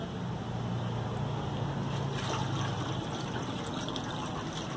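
Water pours steadily from a hose into the petrol tank of an Apache 160 RTR motorcycle, a continuous close hissing gush with a low resonant hum, faint voices barely present.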